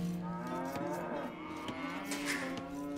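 Water buffalo lowing in Age of Empires 2, a drawn-out bovine moo with layered harmonics over steady game background sound, holding at a moderate level for about three seconds with no talking.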